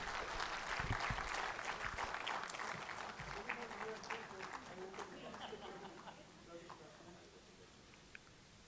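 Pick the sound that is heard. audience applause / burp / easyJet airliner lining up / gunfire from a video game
audience applause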